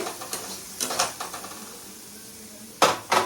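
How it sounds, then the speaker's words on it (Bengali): Fried banana stem cooked with egg is lifted out of the pan into a bowl with scattered scrapes and clinks of a utensil against cookware, including two sharper knocks near the end. "আমি এখন তুলে নিচ্ছি একটা বাটিতে বা পাত্রে।"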